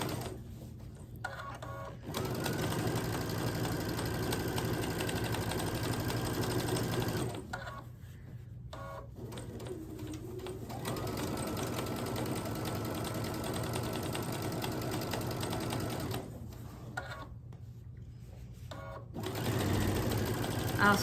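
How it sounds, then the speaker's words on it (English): A sewing machine runs in long steady stitching passes while sewing a door hanger at a 1/4 inch seam, a fast even mechanical whir that pauses briefly between runs, close and clear, with no talking over it. "We'll come down a little bit and then we'll start stitching at 1/4 inch."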